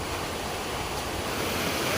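A rain-swollen village stream rushes steadily close by, a constant broadband wash of flowing water with no breaks or voices.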